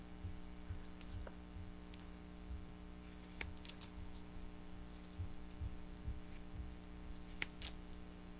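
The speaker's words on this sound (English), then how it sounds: "You definitely want to use non-stick scissors for this, otherwise everything is going to stick to your scissors." Non-stick scissors snip through moldable backing material during card making, giving a few faint, sparse clicks and snips over a quiet room hum with no talking.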